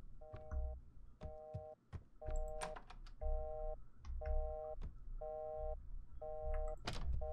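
A video game telephone rings in a repeated electronic double-tone pattern, roughly once per second through the clip, mixed with thumps, clicks and footstep-like knocks from gameplay.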